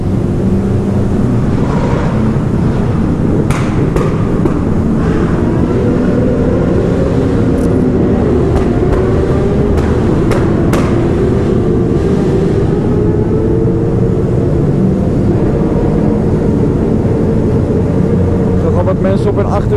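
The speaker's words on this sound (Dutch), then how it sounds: "langs 101 motoren" A long procession of about a hundred motorcycles rides past during a funeral, their engines merging into a loud, continuous rumbling roar with occasional sharper revs, while people speak nearby.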